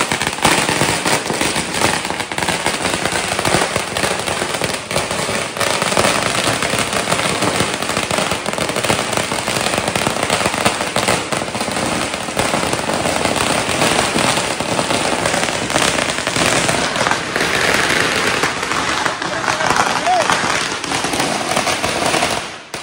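A long Diwali firecracker string blasts without pause on a festival night, a dense, loud, rapid crackle of pops that runs unbroken for over twenty seconds with no voices.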